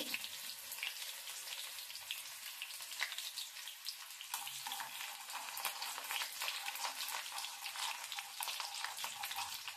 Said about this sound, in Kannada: ಇವಾಗ ಎಣ್ಣೆ ಕಾದಿದೆ, ಅದಕ್ಕೆ ಚಿಕ್ಕದು ಹಾಕಿದ್ರು ಬೆಳ್ಳುಳ್ಳಿ ಎಣ್ಣೆಲಿ ಹಾಕಿ ಫ್ರೈ ಮಾಡ್ಕೋಬೇಕು ಚೆನ್ನಾಗಿ.